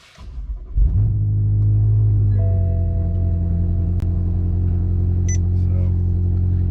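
A BMW M5 V8 cranks and fires on a cold start, then settles into a loud, steady high idle with a deep, constant rumble and a slight pitch shift partway through, close by with no talking.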